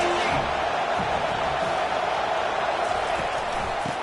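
In a college football video game featuring USC versus Missouri in a top 25 matchup, a stadium crowd roars steadily throughout, a dense, continuous wash of cheering with occasional whoops.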